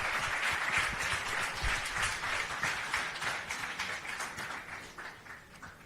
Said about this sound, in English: So a round of applause for Pooja and Cheteshwar as well.